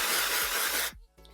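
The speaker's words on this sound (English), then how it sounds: "So you just shake it a little bit and you'll just spray" Hair texturizing spray hisses from an aerosol can in one sustained, close blast for nearly a second. Then it cuts off and a faint handling sound follows.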